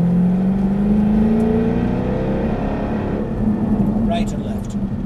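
A Jaguar car accelerates on a driving course, its engine note climbing in a strong, close drone that rises in pitch, then eases before building again. An instructor's voice breaks in near the end.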